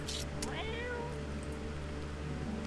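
A cat meows in the video game No, I'm Not A Human, a single rising-and-falling meow over a steady low hum with faint background noise.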